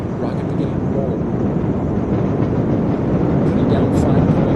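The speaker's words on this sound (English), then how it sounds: "we hear all 27 Merlin engines look great. Rocket beginning to roll." Falcon Heavy rocket with 27 Merlin engines at liftoff, a loud, steady, broadband roar that holds continuously throughout, with a commentator's voice over the rumble.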